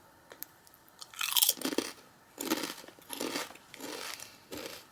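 Walkers Fiercely Flamin' Hot crisps are bitten and chewed up close, a burst of loud crackling crunches followed by several shorter rounds of munching with brief pauses between.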